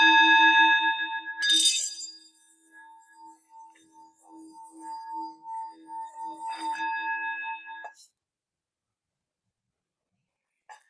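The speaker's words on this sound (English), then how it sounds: "So I'm ringing the bell." A meditation bell rung during a guided mindfulness session, two clear metallic strikes whose pure tones ring out and slowly decay, the second strike fading into silence.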